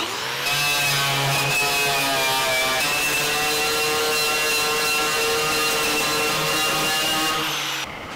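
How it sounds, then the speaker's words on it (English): Continuous abrasive whirring of a wire brush scrubbing the metal firewall of a 1949 Chevrolet gasser, a steady, loud tonal drone with a rough rasp that holds for several seconds before cutting off. "I'm going to use a wire brush against it."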